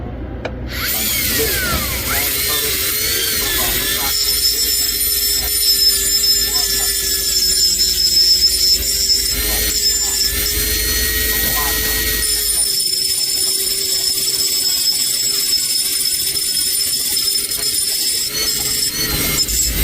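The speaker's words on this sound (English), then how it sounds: "I'm just using a regular cutoff tool that comes in like a Dremel kit." A small Dremel-kit cutoff wheel grinds steadily against a coin being engraved, a continuous high-pitched whine with a slight wavering pitch, close and moderately loud throughout, with a short pause partway through.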